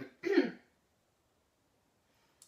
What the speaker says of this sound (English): clear your throat if you need to